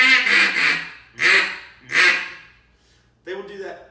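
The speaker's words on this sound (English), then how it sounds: "This right here is how you're not supposed to blow a duck call" A duck call blown incorrectly, producing three loud, harsh, buzzing honks in a row followed by a shorter fourth after a pause, close-up and alone, sounding raspy rather than like a natural quack.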